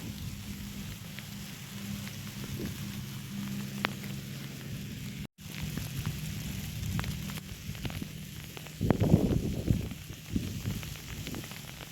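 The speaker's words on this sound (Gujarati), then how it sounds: "જો હજી તો વરસે છે ભાઈ" Rain keeps falling in Mandvi, a continuous soft hiss of drops on surfaces with a low rumbling undertone and a few brief louder spatters, no one speaking.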